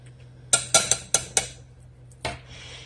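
Drained, rinsed canned beans tumble from the can into a cooking pot for chicken tortilla soup, a handful of sharp metallic clanks and knocks in quick succession, then a softer thud and a brief wet slide, close and clear with no talk.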